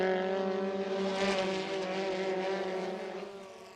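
MRF Challenge race cars scream past on the circuit, their loud high-revving engines a close, harmonic roar that swells, drops in pitch as the cars go by, then fades away.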